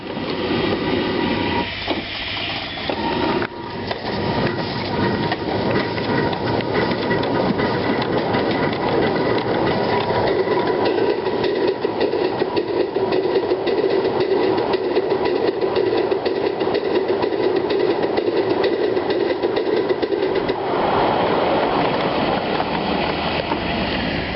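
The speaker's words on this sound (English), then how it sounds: "As you can hear, it does get it pounding a wee bit, but that's okay." Coal-fired steam locomotive running in reverse, giving a loud, continuous pounding chug with rapid rhythmic beats that hold steady for the whole stretch, with no one talking.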